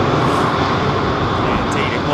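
A oneworld-liveried Airbus A320 jet departs Heathrow as a loud, steady broadband engine roar that fills the whole stretch, with voices talking over it.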